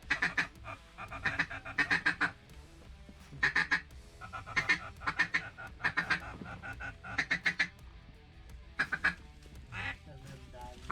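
A group of ducks quacks repeatedly in bursts of raspy calls while flying in over an Arkansas hunting spot, moderately close, with quieter gaps between bursts.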